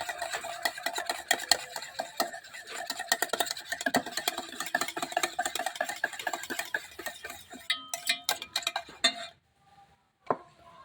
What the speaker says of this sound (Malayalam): തൈരൊന്ന് നമ്മൾ ഉടച്ചെടുക്കുകയാണ്.